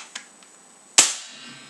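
A Double Eagle M48 G36 airsoft gun fires one sharp, loud crack that trails off briefly, preceded by a faint mechanical click, with no talking.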